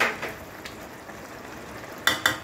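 Fish sizzles gently in a pan with spices, the soft frying hiss running quietly in the background. A few sharp clinks of a utensil stirring sound near the start and again near the end.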